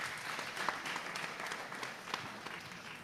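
A church congregation breaks into warm applause for a donor at a fundraising service, a steady mid-distance wash of many hands clapping that holds evenly from start to finish.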